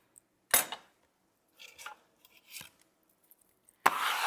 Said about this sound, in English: I run my knife through it